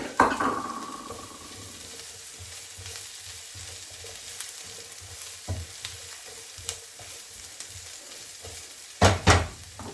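Mushrooms sizzle and fry in a pan for chicken soup, a soft steady crackle broken by a few clinks and scrapes of stirring and a louder clatter near the end.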